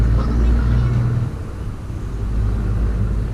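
A McLaren sports car passes nearby with a deep, steady engine rumble that dips briefly and then swells again over about three seconds, without any talk.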